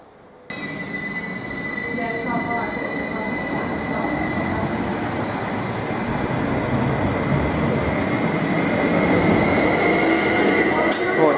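A Class 755 FLIRT train, unit 755411, pulls out of Needham Market station with a rising electric whine and wheel squeal that grow steadily louder and closer, with a person speaking over it.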